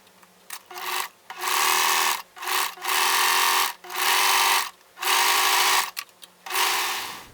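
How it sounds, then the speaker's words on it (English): A serger sewing a rolled hem along chiffon fabric edges runs in bursts of steady mechanical whirring, about six runs separated by brief pauses, close and fairly loud with no talk. "I'm going to take my serger with the rolled hem and finish off all the outer edges"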